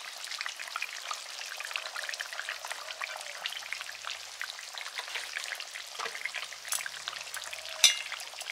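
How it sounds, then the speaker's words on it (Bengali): Mustard oil poured over raw hilsa fish curry cooked with taro sizzles softly in the pan, a steady faint crackle of fine pops with one brief sharper spatter near the end. "আমি উপর দিক থেকে একটু সর্ষের তেল দিয়ে দেবো"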